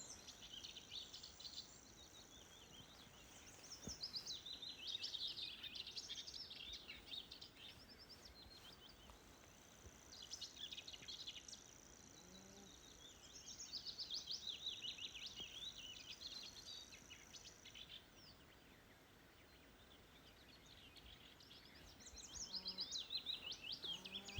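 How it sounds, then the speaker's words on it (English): Birds singing outdoors in spring, recurring bursts of high chirps and trills in several phrases separated by quieter gaps, faint and distant over a soft natural background, with no talking. "These birds make the best noises."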